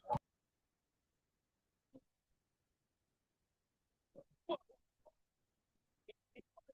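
Sparse, faint bird calls break long silences: a short burst at the start, then scattered chirps and clucks toward the end.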